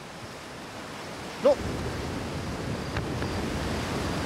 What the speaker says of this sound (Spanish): una catarata que venía de arriba del todo